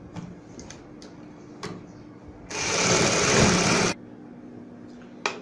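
A sewing machine stitches a blouse neck design in one loud run of about one and a half seconds, framed by scattered clicks and light handling taps before and after.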